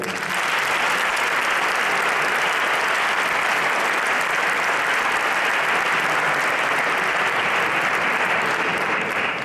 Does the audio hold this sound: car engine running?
no